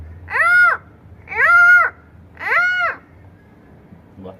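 Three drawn-out, cooing calls from a voice imitating a pigeon, evenly spaced and fairly loud, followed by quiet.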